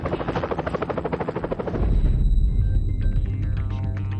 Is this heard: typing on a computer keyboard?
no